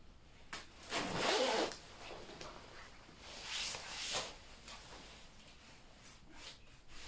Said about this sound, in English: Quite heavy duty zips